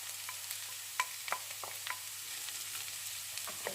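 Lardons frying with translucent onions in a pan for tartiflette, giving a soft, steady sizzle with occasional light stirring clicks and scrapes, fairly quiet and with no talk.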